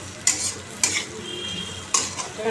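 Food frying in a pan and stirred, with a continuous sizzle broken by three sharp scraping strokes of a spatula against the metal, close and fairly loud with no voices.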